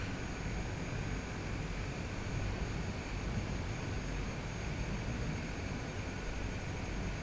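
A Cessna Grand Caravan taxis in Microsoft Flight Simulator 2020, making a continuous steady turboprop drone at low volume with a broad, even noise and no other sounds over it.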